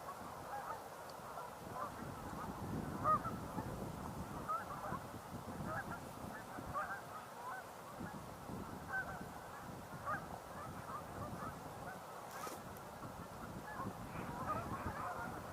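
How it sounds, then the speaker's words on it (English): Ducks and geese from a large flock on open water call at a distance, a steady chorus of honks and quacks, including a mallard, running without pause and without nearby talk. "Just heard a mallard."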